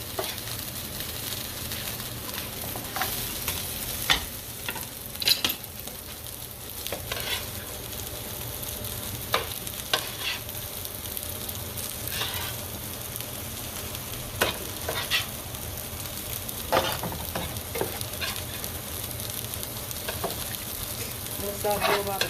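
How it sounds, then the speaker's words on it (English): Potatoes sautéing in a pan with peppers and onions, a continuous close sizzle and crackle with occasional stirring scrapes and light taps throughout. "I'm going to start doing my potatoes, saute that with peppers and onions also."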